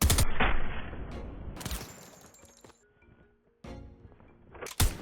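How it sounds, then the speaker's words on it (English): A combat SMG and a shadow tracker pistol fire in a video game as the weapons are swapped, loud bursts of shots separated by quieter clicks and mechanical handling sounds, then a final sharp shot. "So I'm just holding down the trigger and I'm swapping these weapons."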